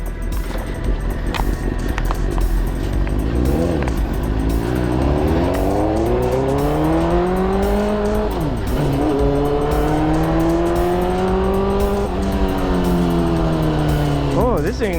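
Suzuki GSX-R600 sport motorcycle engine revving hard and rising in pitch through repeated upshifts as the bike accelerates, loud and sustained, with a voice talking over it.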